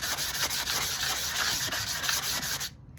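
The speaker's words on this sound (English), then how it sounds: "I'm just sanding the edges down so they're comfortable" Steady, continuous sanding of a cigar box guitar's wooden edges, a close scratchy rubbing in quick back-and-forth strokes that stops abruptly at the end.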